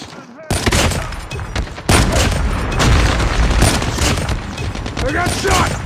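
Dense gunfire in Call of Duty Mobile on the Shipment map, rapid loud bursts and booming shots one after another with game voice callouts underneath.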